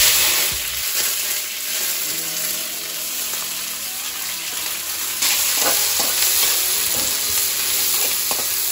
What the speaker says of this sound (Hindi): अब जैसे ये हाई हीट हो गया, इसमें धुआं निकल रहा है, उसी टाइम हम इसमें सबसे पहले डालेंगे प्याज.